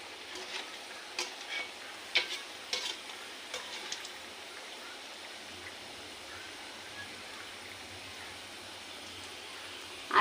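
Momo filling fries and is stirred in a pan, a quiet steady sizzle with light scraping and tapping of the spoon in a home kitchen, no voices.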